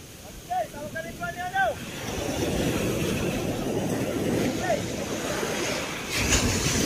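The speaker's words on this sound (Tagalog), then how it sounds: "Lalaki ng alon, oh." Large ocean waves rush and roar in a continuous broad wash, loud and fairly near, with wind buffeting the microphone and a voice calling out over the start.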